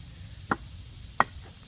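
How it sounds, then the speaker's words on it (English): A TRC Apocalypse knife chops wood, two sharp, distinct strikes about a second apart, close and alone. "Now, let's do a little bit of chopping with this."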